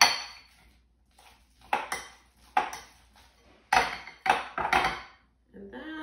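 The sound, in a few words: mashing banana with a fork for banana bread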